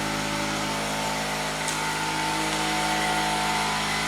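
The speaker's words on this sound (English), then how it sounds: "It's loud because that's the air compressor." An air compressor runs steadily in a room of a house under construction, a loud, constant mechanical drone with a low hum that fills the space without pause.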